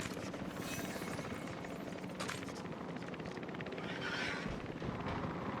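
Helicopter in the Jurassic World Evolution 3 video game, a steady throbbing rotor drone held at a low, even level throughout under game ambience.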